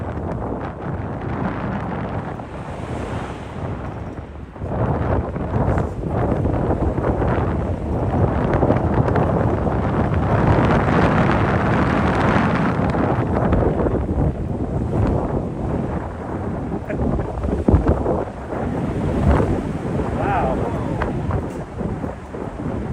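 Strong wind roars and buffets a microphone outdoors in Lower Manhattan, New York City, a loud continuous rushing with gusting surges throughout and no speech.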